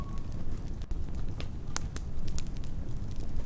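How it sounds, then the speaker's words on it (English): Campfire crackling with scattered sharp pops and snaps over a steady low rumble, fairly close and continuous, with no talking. "So you can hear a fire"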